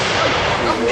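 A musket fires at a historical reenactment, one loud, close blast that fills the whole short moment with broad noise.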